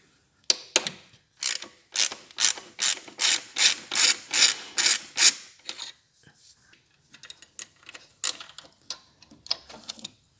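A ratchet wrench clicks through a rapid burst of even, close strokes while a holding bracket comes off a VW Golf 4 or Opel Vectra C engine. A sparser, irregular run of clicks and rattles follows, and no one talks.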